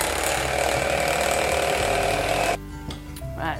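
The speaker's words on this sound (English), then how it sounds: "but I'm going to use a whisk." Electric whisk mixing gingerbread mixture into a breadcrumb-like texture, a loud, steady mechanical whirr with a rattling grind that cuts off abruptly partway through, followed by a few quieter bumps and a short restart.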